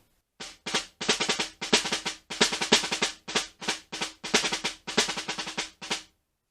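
A snare drum plays an etude from Portraits in Rhythm, alternating crisp dotted figures with rounder triplet passages in short bursts of rapid strokes and brief pauses, loud and close, alone.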